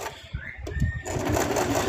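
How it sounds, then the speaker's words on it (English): Sewing machine stitching a mouse plush with a tight stitch, a close rapid mechanical whirring and clatter that starts in short pulses and settles into a steady continuous run. "I am going to do this as a little bit of a tighter stitch."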